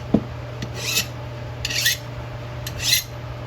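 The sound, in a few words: file sharpening a tool edge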